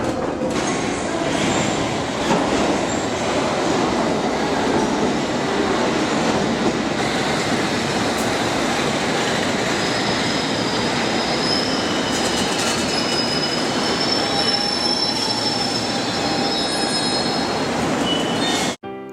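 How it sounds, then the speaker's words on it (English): A London Underground District line train running towards Gloucester Road, a loud continuous rumble of wheels on track with metallic squeals and high whines rising and fading over the ride, heard from inside the carriage. "Soon we caught the district line towards Gloucester Road."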